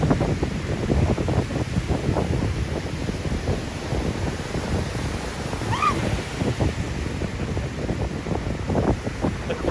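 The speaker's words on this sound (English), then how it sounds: "It's so windy though." Strong seaside wind buffets the microphone in a constant rumbling roar, with surf-like noise underneath throughout.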